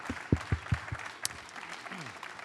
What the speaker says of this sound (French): Je crois qu'on peut vous applaudir une nouvelle fois.